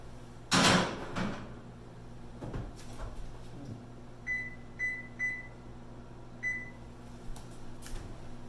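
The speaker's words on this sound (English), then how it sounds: "We're going to get this in the oven at 350 degrees." Oven door opened with a clunk and closed as an oatmeal cake goes in to bake at 350 degrees, followed by a few soft thuds and a series of short electronic beeps from the oven controls; no talking.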